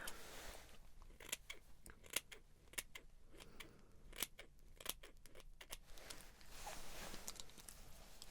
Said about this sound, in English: I'm going to go in with my smaller scissors,